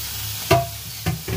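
Mutton pieces dropped into a pan of golden brown fried onions, giving a close sizzle and frying hiss with a few stirring scrapes and clunks, no voices.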